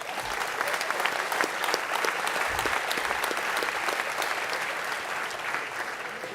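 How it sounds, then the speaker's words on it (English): Sustained crowd applause fills a university 50th anniversary celebration, a dense, even wash of many hands clapping that holds steady for several seconds without pause. "So give yourself a round of applause."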